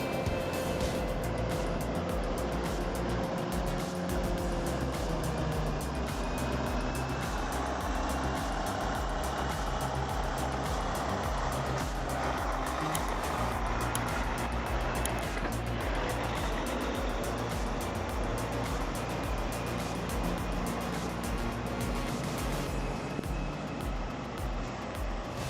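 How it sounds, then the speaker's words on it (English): Monster trucks drive with a continuous heavy engine roar and rumble, loud and close throughout, with no pauses. "These monster trucks never fail to amaze us, do they, everyone?"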